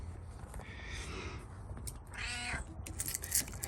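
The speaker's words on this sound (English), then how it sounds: "get out of here, cat. Nobody wants you right now." A house cat meows a couple of times, with a short harmonic cry near the middle and a brief whine later, close by against a low background rumble.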